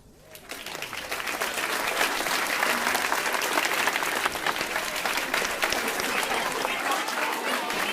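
A large hall audience at an educational gathering breaks into applause to welcome a swami. The dense clapping swells within a second and then holds loud and steady to the end, with faint voices underneath.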